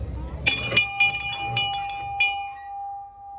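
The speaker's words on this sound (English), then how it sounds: "Can just ring the bell." A bell rings on a kids' park train ride at Happy Hollow Park & Zoo in San Jose, with about half a dozen quick clear strikes whose tone lingers and fades at the end.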